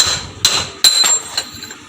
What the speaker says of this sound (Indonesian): Kita palu. Oke, pokoknya kita ketok pemirsa.